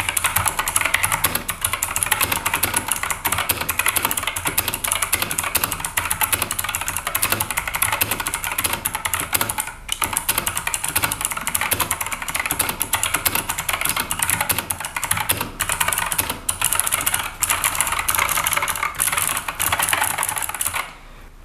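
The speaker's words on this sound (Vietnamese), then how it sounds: "Bây giờ mình sẽ gõ một đoạn văn bản cho các bạn cùng nghe cái tiếng click key của nó nhé." Continuous fast typing on a waterproof mechanical keyboard with blue optical switches, a dense, loud, steady stream of crisp clicky keystrokes close up with no pauses and no talk.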